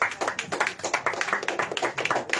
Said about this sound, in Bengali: বিকাশ দার মতন এরকম মানুষের জন্য আপনাদের কোথায় একটা জোরে হাততালি দিতেই হবে।